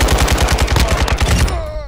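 Rapid automatic gunfire from a weapon in Call of Duty: Modern Warfare II, a loud, steady burst of evenly spaced shots lasting over a second before cutting off.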